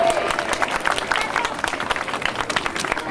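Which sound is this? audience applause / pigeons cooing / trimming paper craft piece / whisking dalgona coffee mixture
audience applause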